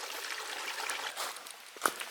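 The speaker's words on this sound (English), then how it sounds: "This water has been slowly building up and building up." Creek water on a forest trail, a faint steady trickle and running sound with one small splash near the end, quiet and close, no voices.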